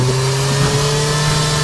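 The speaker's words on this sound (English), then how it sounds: "I've never heard a dirt bike that sounded like that in my life." A dirt bike engine runs loud and close with a steady, droning tone and an unusual hum, holding its revs without breaks or voices.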